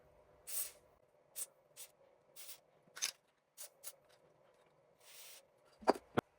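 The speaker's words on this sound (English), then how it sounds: "we're just going to spray into the rubber right here" Short bursts of penetrating fluid sprayed from an aerosol can onto a rubber suspension bushing, about eight separate hisses of varying length with quiet gaps, followed by a couple of sharp metallic clicks near the end.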